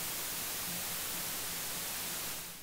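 A synthesized white noise riser for a techno set rushes as a dense, loud, steady hiss, then tapers off at the end with no one speaking.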